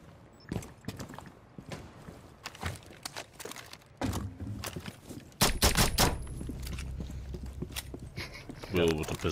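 Pistol shots ring out during a Rainbow Six Siege round, several sharp cracks spread across the clip, mixed with footsteps and game noise while players talk over them.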